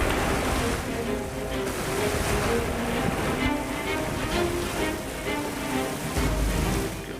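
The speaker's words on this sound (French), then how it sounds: "Comme vous pouvez le voir, la côte est frappée par les vagues." Storm waves crash steadily against a coastline in violent weather, a continuous loud roar of surf with wind and spray and no clear breaks.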